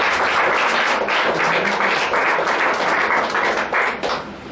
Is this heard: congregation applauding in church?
yes